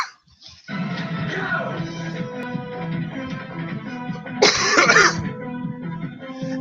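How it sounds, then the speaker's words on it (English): A person coughs repeatedly in a rough, drawn-out fit close to the microphone, with a harsher burst of coughing near the end. "Ever have a coughing fit before you go live?"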